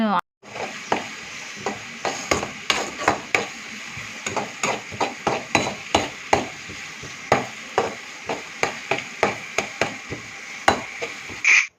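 Onion pieces frying in a pan with salt added, a steady close sizzle carrying repeated sharp clicks and scrapes of stirring throughout.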